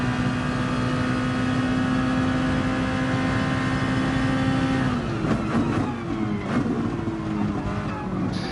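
Race car engine in a racing video game on a Brazil circuit holds a steady loud drone, then shifts down with overlapping revving and braking tones as it slows into a corner, continuous and close throughout.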